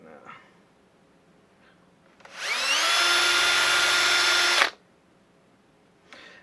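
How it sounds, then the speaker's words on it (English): A cordless drill drilling holes in leather spins up sharply and runs loud and steady for a couple of seconds, then cuts off, leaving quiet background. "Now when you're drilling your holes right here, try to make sure you go straight."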